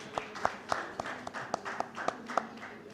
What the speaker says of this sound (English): A round of applause for him and his amazing panel.